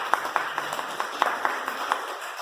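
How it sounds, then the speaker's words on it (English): Audience at a women's success summit media launch clapping in an irregular scatter of claps, moderately near, steady across the moment with no talk over it. "I want to clap for Jesus."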